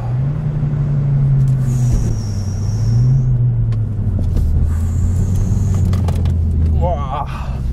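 A Ford Focus ST225 Mk2 driven on the UTAC test circuit, its engine a loud, steady droning rumble that rises and falls with speed throughout, with excited voices over it.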